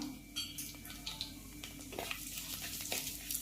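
Fenugreek, mustard seeds and cumin sizzling in oil left over from fried brinjal, a steady frying crackle with scattered pops and spoon-against-pan scrapes while stirring.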